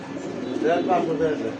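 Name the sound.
red checker racer pigeon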